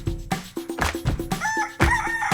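A chicken clucks and crows in a brisk run of short, loud, close calls with a rooster's crowing mixed in, heard alone without talk.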